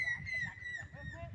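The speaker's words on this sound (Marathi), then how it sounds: "ही घार ओरडते हा घारीचा आवाज आहे" A high, thin whistling call of a kite, held and slightly falling, rises over a low murmur of voices and background noise by a river.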